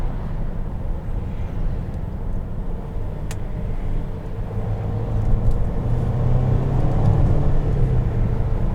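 A 2020 Mercedes-Benz GLC300's turbocharged four-cylinder engine hums steadily from inside the cabin, a low rumble that swells as the engine revs up and accelerates.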